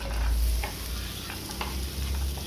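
Chopped onion sautés in butter in a pan with a constant crackling sizzle, broken by light stirring scrapes and a low rumble underneath.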